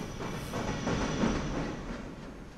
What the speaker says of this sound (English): That train just left